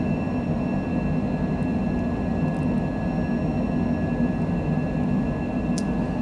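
Steady, dense cabin roar of a Longitude business jet climbing out after takeoff from Las Vegas in a flight simulator, a constant broadband rush with a faint high whine, no voices.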